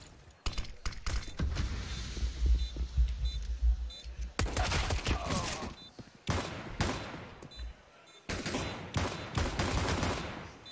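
Dual Berettas pistols fire in a Counter-Strike match on the Inferno map: repeated sharp shots in bursts across several seconds, with brief gaps and a broadband clatter, mid-loud, and no voices over them.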